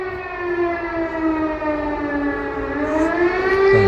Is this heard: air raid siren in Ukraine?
yes